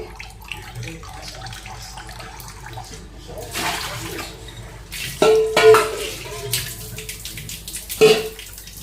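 Water trickles and splashes out of a perforated vessel draining washed chicken, with occasional clinks of metal bowls and bursts of louder pouring.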